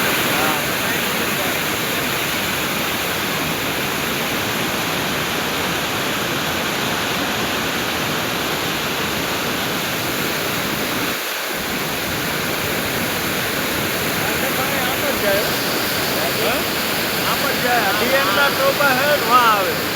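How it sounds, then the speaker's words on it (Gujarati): Heavy floodwater rushing fast after torrential rain in Junagadh, a dense, steady roar of churning water that fills the whole stretch, loud and close, with a brief dip partway through and a voice faintly under it. "પાણી એટલી સ્પીડથી વહે છે"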